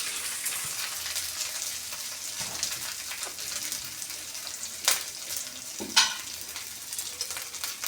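Ginger sautés in a pan for a vegetarian jackfruit and potato curry, giving a steady sizzle with stirring scrapes and two sharper clanks from the spoon.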